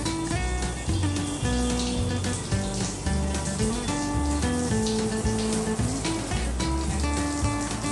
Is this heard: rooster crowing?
no